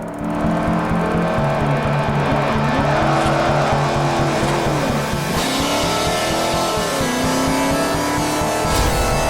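A BMW M1 in the racing game Forza Horizon 5 roars loudly and continuously, its engine note rising and falling through revs and gear changes, with occasional tire squeal and no speech.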